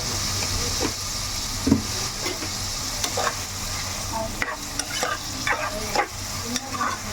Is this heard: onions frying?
yes